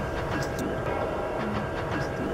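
A GO commuter train passes near a fox den in Maple, Ontario, a loud continuous rumble with rhythmic wheel clatter on the rails.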